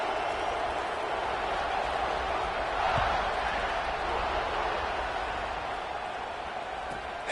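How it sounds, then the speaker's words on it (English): A stadium crowd in a college football video game buzzes after a score, a continuous dense roar of many voices at steady level with one faint thud partway through. "this crowd is buzzing after that last score"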